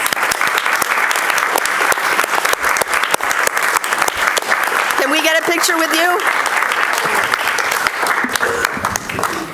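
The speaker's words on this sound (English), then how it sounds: "would everyone who is a winner please stand up and get applause?" Applause fills a city council chamber in Ann Arbor as award winners stand, steady loud clapping from a crowd with voices talking over it partway through.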